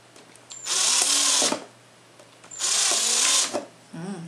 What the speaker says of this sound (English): we've got our drill, and it's just a small drill bit, not tiny, big enough to let the water drop through